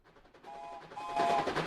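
Alert sound effect for the Kismet Love Train plays during a 7 Days to Die stream: a tonal chime that builds in loudness over under two seconds, with sustained bright notes over a busy, rising texture.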